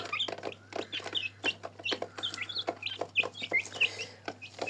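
Young Silkie chickens cluck and peep while eating, a busy run of short close calls and soft pecking sounds with no talk.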